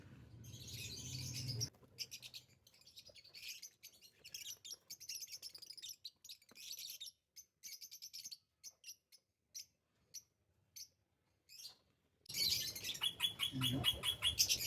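Small birds chirp and tweet on a rooftop garden in quick, high bursts, with short gaps of quiet between calls and a busier stretch of chirping at the end.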